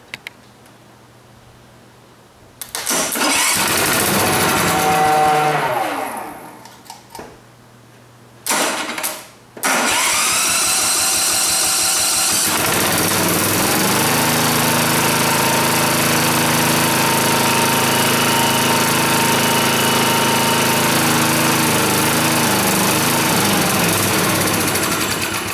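A Montgomery Ward GX7 engine, stored for 37 years, cranks with a couple of short bursts, then fires and settles into a steady, loud, close running drone that continues to the end.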